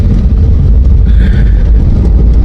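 A car sits in heavy, barely moving traffic, with a loud, steady low rumble of engines and road noise filling the whole stretch close by.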